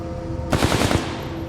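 Automatic gunfire in the shooter game Titanfall 2 breaks out as one loud rapid burst of shots lasting about half a second, over a steady background hum that continues afterward.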